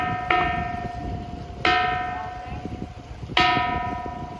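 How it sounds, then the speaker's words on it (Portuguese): Bell-sounding rocks at Pedra do Sino on Ilhabela, Brazil, are struck three times at even intervals, each hit ringing out with a clear metallic chime that slowly decays over quiet background noise. "Se você pegar alguma coisa de metal ou até uma pedra e bater nas pedras aqui, elas fazem um barulho de sino."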